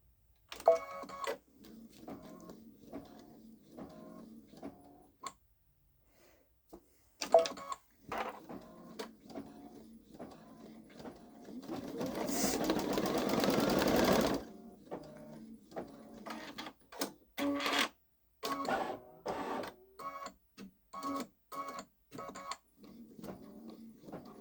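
A Babylock Solaris Vision embroidery machine stitches out a design in bursts of rapid mechanical needle ticking, with a short louder whirring stretch in the middle and brief pauses between runs.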